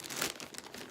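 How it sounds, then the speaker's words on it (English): Scissors slicing open a plastic package holding a 100 Thieves windbreaker, heard as close, continuous crinkling and rustling of the plastic over about a second, with no talking. "So let me just use my scissors and just cut up,"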